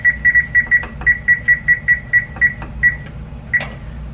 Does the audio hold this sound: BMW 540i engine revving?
no